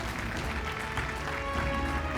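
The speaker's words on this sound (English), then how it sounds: "Please give him a round of applause." At an insurance awareness awards ceremony in Mumbai, an audience gives steady applause, a dense wash of clapping from a crowd lasting the full couple of seconds.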